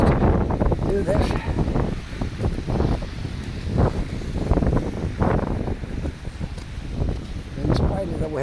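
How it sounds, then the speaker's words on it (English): Strong wind gusts batter the microphone during a snowstorm on the Macdonald Bridge, a loud, rough, buffeting roar that surges and eases throughout while a person talks over it. "The wind blowing, but we're going to try our best to do this."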